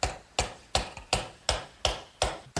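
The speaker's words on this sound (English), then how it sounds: "so I'm going to use a mallet to" A mallet knocks an eye bolt with a washer into a snug hole in a wooden garden swing bracket, giving seven sharp, evenly spaced blows close by, each ringing briefly before the next strike.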